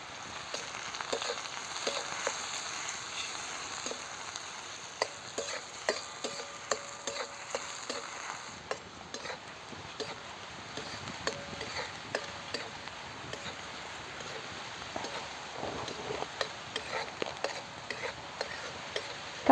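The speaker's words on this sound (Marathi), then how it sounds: "त्यात आपण आता चांगला कांदा टाकून चांगले भाजून घेऊया." Onions frying and being stirred in a pan over a village wood-fired clay stove: a low, steady sizzle with frequent light scraping and tapping of the spoon against the pan, fairly faint, with no one talking.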